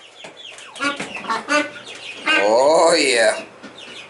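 Homestead chickens clucking and squawking in a loud, busy burst over a few seconds, with someone speaking briefly nearby.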